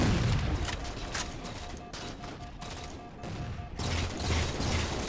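Rapid Halo 4 gunfire in a capture-the-flag match, with shotgun and sniper weapons in play, pouring out as a dense, continuous fusillade of bursts and cracks. It runs loud for the whole stretch, with a slight dip in the middle.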